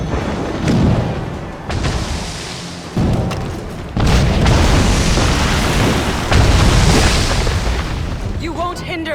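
Mortar shells burst in Assassin's Creed Rogue as deep, heavy booms land one after another, loud and rumbling, with lingering roar between blasts and a voice speaking briefly near the end.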